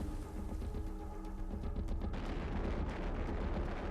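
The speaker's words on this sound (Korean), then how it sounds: "대포가 날아드는 포격전이 펼쳐집니다" Cannon fire in a naval battle between ships near Pungdo island at the start of the First Sino-Japanese War: dense, continuous rumbling booms and blasts that grow heavier partway through, with no talking.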